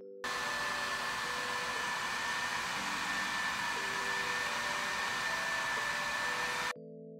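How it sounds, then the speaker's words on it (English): A Gigabyte Brix Pro BXi7-5775 mini PC's cooling fan roars at full speed under heavy CPU load, a steady loud hairdryer-like whoosh with a faint high whine, running continuously before stopping abruptly near the end. "any type of heavy workload will make the PC sound like a hairdryer on full blast."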